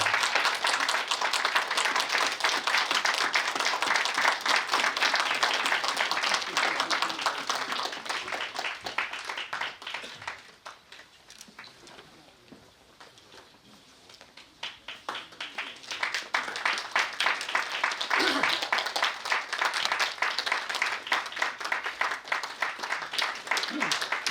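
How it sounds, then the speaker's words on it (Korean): Audience applause at an inauguration ceremony for a North Korean defectors' youth federation general meeting: dense clapping from a standing crowd, fading to near quiet midway, then rising again into loud sustained applause. "모두 일어서큰 박수로 축하해 주시기 바랍니다."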